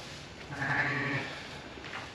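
A rare-breed ewe lamb, probably a Dutch Spotted, lets out a single faint, wavering bleat outdoors against quiet background noise, with a softer trailing call near the end.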